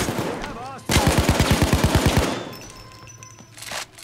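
Rapid automatic gunfire in the video game Payday 2, a burst of about fourteen loud, evenly spaced shots lasting over a second, followed by quieter game sounds and a short final blast.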